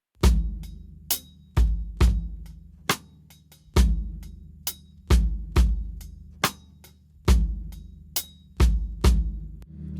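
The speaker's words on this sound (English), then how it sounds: "what I like to do when there's patterns like that where the rim click is just on 4 is you can bring out the hi-hat on 2" Acoustic drum kit pattern, steady and close, with bass drum thumps, a rim click on beat four and an open, accented hi-hat on beat two repeating for several bars.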